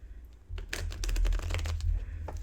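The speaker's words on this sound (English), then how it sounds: "Let's shuffle." A short burst of tarot cards being shuffled, quick papery flicks and slaps up close over a low background hum, lasting about two seconds.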